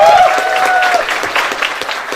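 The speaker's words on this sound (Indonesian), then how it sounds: "Tepuk tangan yang meriah untuk Bang Refli Harun." A crowd at a heated public discussion claps loudly and continuously for Refli Harun, a dense roar of hands, with a high whistle or cheer ringing out early.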